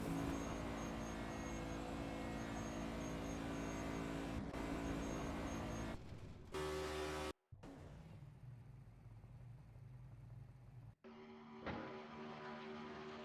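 Race cars in a racing video game at Eldora Speedway drone and whir on track, a steady engine hum with abrupt cuts and shifts between camera views, fairly quiet with no voices.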